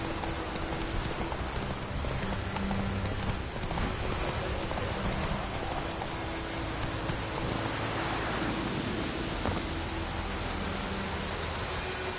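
Horse hooves clop steadily in The Witcher video game, a continuous rhythmic pounding beneath a dense wash of rain-like hiss and a low hum, moderately loud throughout.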